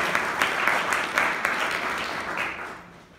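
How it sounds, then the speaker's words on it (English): Town meeting audience at a Purcellville State of the Town address breaking into applause, a steady wash of many hands clapping that holds for a few seconds and then fades out. "Let's give a round of applause to our new town manager and the staff of Town Purcellville"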